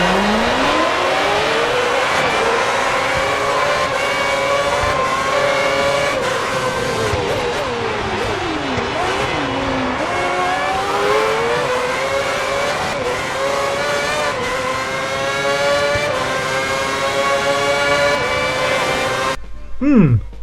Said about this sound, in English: let's check and see whether they've got the sound just right